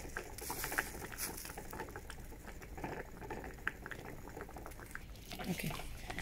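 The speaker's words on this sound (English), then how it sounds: "now I'm gonna try to remove the flask from the boiling water" Water boiling in a hot bath around a flask holding a volatile liquid, a continuous bubbling patter with sharp pops and crackles, steady and close throughout.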